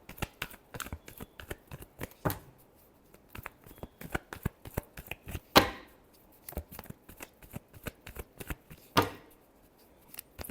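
Tarot cards are shuffled by hand in a quick series of soft riffling flicks and slaps, close and fairly quiet, with a few sharper snaps standing out.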